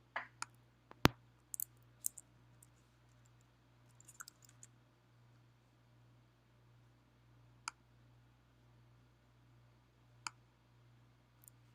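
A computer mouse clicks on a web page link, producing sparse faint clicks scattered over several seconds above a steady low electrical hum, with no speech.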